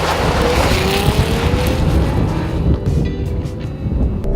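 Lexus GX 460 SUV accelerating at full throttle, a loud, continuous engine and road roar with rising pitch that eases toward the end.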